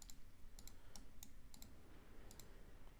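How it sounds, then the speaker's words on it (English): A loud computer mouse clicking in quick double clicks, repeated about seven times at an irregular pace, close and crisp over a quiet room hum. "Sorry about the mouse clicking."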